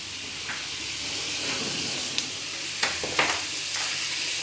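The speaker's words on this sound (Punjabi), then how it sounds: "ਇੱਥੇ ਸਾਡੀ ਸਿਮਰਨ ਬਣਾ ਰਹੀ ਹੈ ਮੈਗੀ" Maggi noodles cooking in a pan give a steady, close sizzling hiss throughout, broken by a few sharp clicks and scrapes of stirring.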